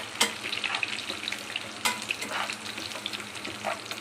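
Onions frying in a pan for Andhra-style pappu charu (dal), cooked until golden brown; a steady close sizzle with stirring scrapes and two sharper bursts, no talking.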